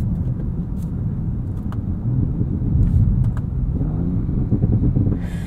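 A 2023 Audi S6 engine with sport exhaust rumbling from the cabin, rising in a couple of revving surges with a few sharp crackling pops scattered through, close and fairly loud.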